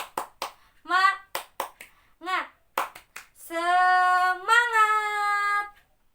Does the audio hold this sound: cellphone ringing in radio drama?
no